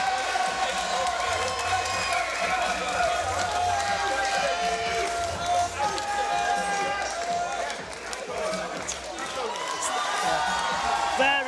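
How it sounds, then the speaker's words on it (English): At a women's fight between two Dutch fighters, the arena crowd keeps up a dense, continuous roar of applause and cheering. A commentator's voice carries over the steady crowd noise. "You can hear the appreciation from the crowd."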